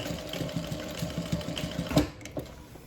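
A sewing machine runs in quick bursts while basting the lining of a Denver double zip bag, its needle chattering in a fast rhythmic patter with brief pauses, close and moderately quiet.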